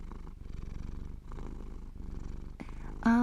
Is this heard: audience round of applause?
no